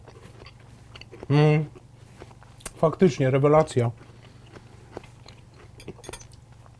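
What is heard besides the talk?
biting and chewing a crunchy pickled cucumber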